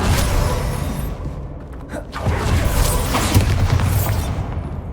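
A Bombarda spell goes off in Hogwarts Legacy gameplay, loud booming blasts with crackling, creaking debris that surge, dip briefly, then roll on again.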